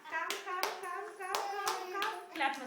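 A young child claps her hands in a home during her first attempts at walking, making about seven sharp, evenly spaced claps close by while an adult speaks encouragingly over them.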